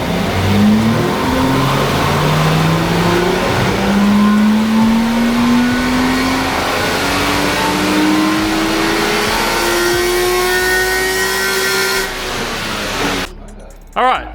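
A Toyota 1G-FE inline-six with its airbox removed revs steadily upward on a dyno, a loud, sustained engine note climbing in pitch for about twelve seconds before cutting off abruptly.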